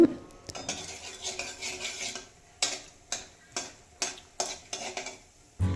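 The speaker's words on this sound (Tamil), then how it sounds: "இப்போது கடாயை சூடு பண்ணிவிட்டு கொஞ்சம் கடுகு உளுத்தம்பருப்பு போட்டுட்டு" Mustard seeds and urad dal crackle in a hot kadai, giving a run of sharp, irregular pops and light sizzling, close and fairly quiet with gaps between bursts.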